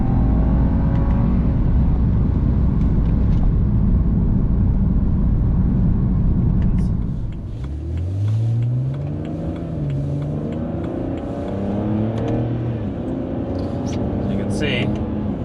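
A BMW E90 with the N52 engine and a performance muffler pulls hard in third gear, heard from inside the cabin: a loud, steady engine drone, then a shift around midway with rising revs over road noise.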